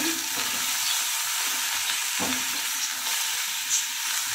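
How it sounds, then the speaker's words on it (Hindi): Cauliflower frying in a pan gives off a close, steady sizzle with occasional soft stirring knocks and no speech. "यहाँ पे मैं गोभी भी फ्राई कर रही हूँ"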